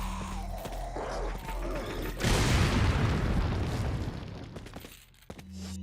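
A regular grenade detonates in Resident Evil 4 (2005), a sudden loud boom bursting in after a stretch of quieter game ambience, then a long rumbling decay that fades over a few seconds before a sharp small pop near the end.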